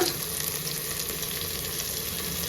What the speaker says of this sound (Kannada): ಇವಾಗ ಚೆನ್ನಾಗಿ ಫ್ರೈ ಆಗಲಿ.